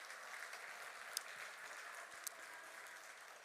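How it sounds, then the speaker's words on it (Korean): A church congregation claps in a faint, distant, steady round of applause, with a couple of sharper single claps standing out near the middle. "우리 박수 한번 하겠습니다."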